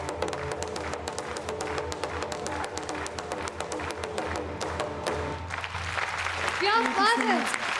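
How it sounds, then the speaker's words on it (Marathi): A studio audience at a Marathi TV singing competition claps loudly in a dense, steady patter of handclaps that fades after several seconds as a voice begins speaking. "जोरदार टाळ्या."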